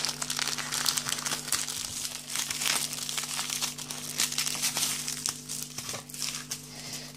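Crinkling and crumpling of a French military ration bag being pulled open fills the stretch, with continuous close plastic rustles and occasional sharper tearing crackles, no voices.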